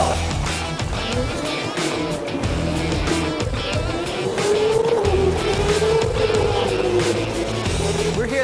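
Karts race around the K1 Speed indoor track, a close, steady motor whine rising and falling with bursts of tire squeal, loud throughout.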